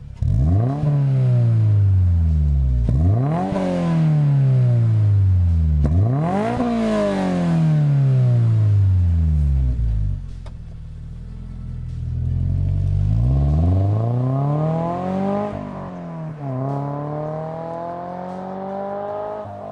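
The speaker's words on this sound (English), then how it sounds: "you get a really nice crisp sounding exhaust" A 2023 Subaru BRZ fitted with an HKS Spec L exhaust revs repeatedly, each sharp climb falling back, with a brief idle lull before two more rising revs; loud and close, no talking.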